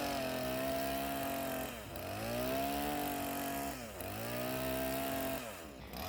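A chainsaw cuts mango wood from the rainforest into boards, its engine whining loud and close at full revs, briefly dropping in pitch twice as the chain bogs or eases, then climbing back, with no talking.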